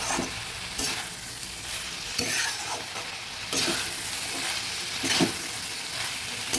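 Chickpeas, soybean chunks and potatoes frying and being stirred in spices in a pan, a steady close sizzle with repeated scraping stir strokes across several seconds.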